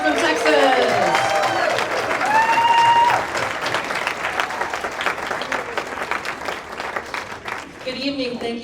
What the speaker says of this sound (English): let's have another round of applause for that rabble-rouser from Texas